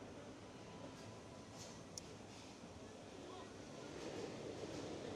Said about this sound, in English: As we see just massive waves pounding onto this beach.